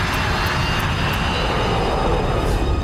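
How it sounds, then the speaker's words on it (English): A Boeing 727 jet roars steadily through its takeoff run, a loud, continuous broadband engine rumble with no pauses and no voices. "The 727 is seconds away from leaving the ground."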